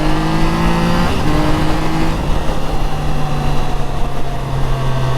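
A Triumph Trident 660 motorcycle pulls away from a second-gear start. Its engine is loud and close, its pitch climbing steadily, with a quick shift partway through, then more revving over wind roar.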